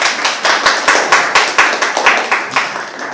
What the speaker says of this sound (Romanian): O aplaudăm.